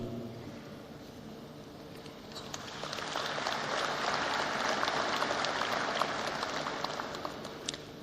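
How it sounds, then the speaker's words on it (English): Applause from an audience at a genocide commemoration ceremony, building around the third second into a broad, sustained patter of many hands that holds steady and fades slightly toward the end. "and we applaud you"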